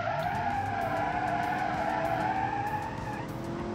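A car in the BeamNG driving game, a drift build, slides sideways under the handbrake with a long, loud, steady tire squeal over engine roar, lasting the whole stretch with no talking.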